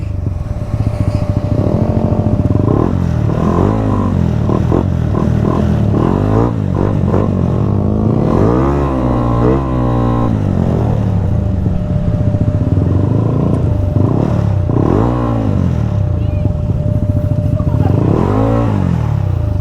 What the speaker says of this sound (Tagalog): Salamat sa pagpapa-test drive ng motor.